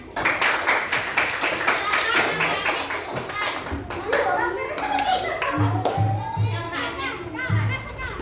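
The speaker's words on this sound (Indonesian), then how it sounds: "Tepuk tangan." A classroom of children claps in dense, lively bursts, loud and close, mixed with their chatter and calls throughout.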